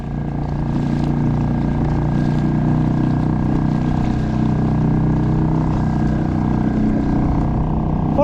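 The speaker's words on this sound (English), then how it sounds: "let's go ahead and bring this motor down and let's compare the speeds" Outboard motor pushing a kayak through water, a steady close buzzing drone with a constant hum under light wind and water wash, unbroken throughout.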